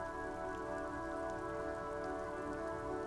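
Steady rain patters on the roof of a woodshed in a rainy yard scene from the video game Disco Elysium, an even, continuous hiss of drops with no voices.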